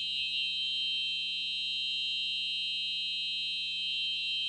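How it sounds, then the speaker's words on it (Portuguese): A fire alarm sounds in a conference hall, a steady piercing high electronic tone held continuously without a break, loud and alone with no voices over it. "Alarme de incêndio?"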